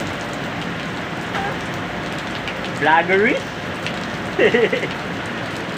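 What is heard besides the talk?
heavy rain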